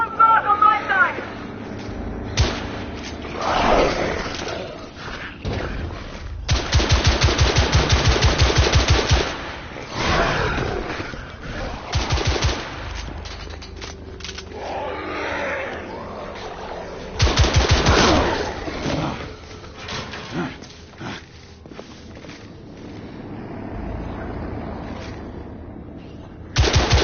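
Bursts of machine gun fire in the video game The Order: 1886, loud sustained volleys repeating across the scene with pauses between, mixed with shouting voices and battle noise.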